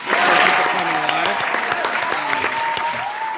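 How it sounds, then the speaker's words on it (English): Studio audience applause with cheering voices, loud and sustained across the whole stretch, with whoops rising over the clapping. "Give yourselves a round of applause out there."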